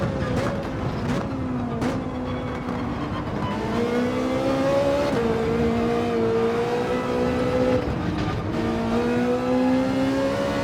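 Ferrari race car in Gran Turismo 7 roars through a lap, its engine note climbing and dropping as it shifts and brakes, loud and continuous with no talk.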